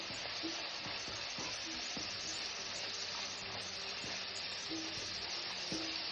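Spice powders are stirred and sautéed in a pan for a fish curry, giving a faint, steady hiss and sizzle with soft scattered stirring sounds and no talking.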